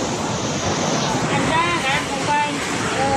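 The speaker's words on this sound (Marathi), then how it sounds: "इथं पलीकडेच समुद्र आहे पण पाणी मात्र इथपर्यंत आलेला" Seawater rushes in near coastal houses at Pajpandhari fishing village: a continuous roar of surging water and wind, loud and close, with faint voices partly heard beneath it.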